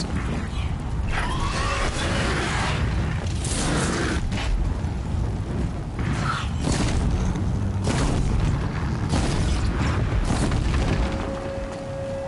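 A machine in Horizon Zero Dawn is pummeled until it explodes, producing heavy booms and rumbling blasts mixed with mechanical clanks and creaks, loud and dense over the whole stretch.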